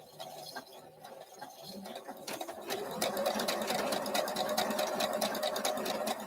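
Sewing machine stitching fabric for quilt pieces, a close, steady mechanical whir with rapid needle clatter that starts softly and grows louder and faster.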